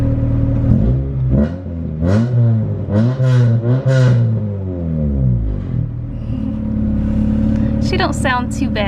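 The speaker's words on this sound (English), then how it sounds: "I'm just gonna do a few baby revs just to hear it in case he takes it" A Honda Del Sol pulled from a field idles, then gets a few short revs, its engine note climbing and falling in quick swells, loud and close, with rumbling idle between and a brief higher whine near the end.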